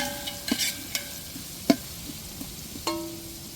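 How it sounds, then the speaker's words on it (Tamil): Tomatoes and chillies are stirred into browned onions in a large pot for a two-kilo batch of biryani. A few distinct scraping clanks ring out over a faint, low sizzle. "வெங்காயம் நல்லா நிறம் மாதிரி வந்ததுக்கப்புறம் நம்ம தக்காளி, மிளகாயை சேர்த்துக்கிறோம்."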